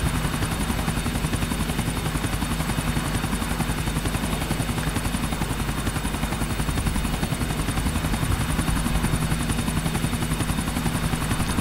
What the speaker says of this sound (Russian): Блин, вертолет-то сдувает шторм.